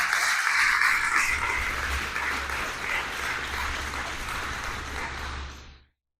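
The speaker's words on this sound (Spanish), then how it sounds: "Denle el aplauso bien fuerte al Señor." A church congregation applauds loudly during a sermon, a continuous roar of clapping lasting several seconds before fading out abruptly, with little talk heard.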